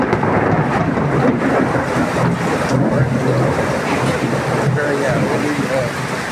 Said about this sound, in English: Windy and stormy day here